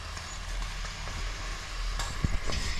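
Jaggery goes into simmering rice pudding in a pot, followed by a low bubbling sizzle with soft stirring scrapes and one brief knock, heard close and fairly quiet.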